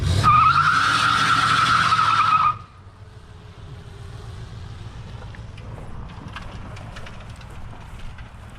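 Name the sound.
1972 Buick Skylark tire picking up stones while driving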